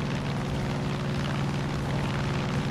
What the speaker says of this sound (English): Oh, this is really freaking cool that we're in planes in this game.